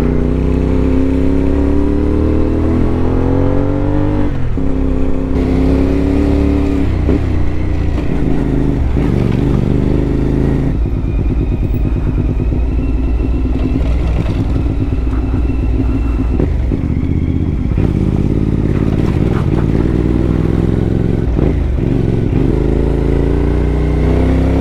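Motorcycle engine climbing a steep road in a rural barangay of Kibungan, Benguet, droning steadily at close range, its pitch rising and falling as the rider shifts and revs through the whole stretch, with no talking.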